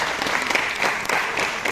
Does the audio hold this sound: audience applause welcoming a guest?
yes